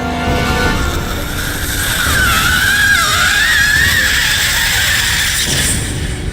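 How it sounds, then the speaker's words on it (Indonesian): A female ghost figure lets out a terrifying scream: a long, wavering, high shriek that rises and bends for several seconds over a loud, rumbling background. No talking. "sosok perempuan itu membuka lebar mulutnya dan mengeluarkan suara yang sangat menyeramkan"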